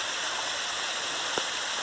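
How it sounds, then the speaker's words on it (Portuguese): Clear water runs steadily down a small cascade beside a nature trail, a constant broadband rush with no voices over it and one faint brief knock partway through. "Água cristalina descendo ali, ó."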